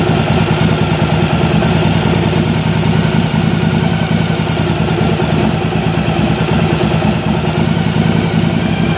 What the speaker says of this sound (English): And you can hear the engine actually is starting to sound better.